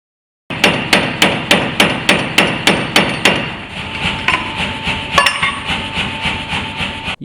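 Power hammer forging a steel tenon through a series of dies at a blacksmith's forge, a loud, fast, even run of heavy metallic blows that stops after about three seconds, leaving a ringing machine hum with a few clanks.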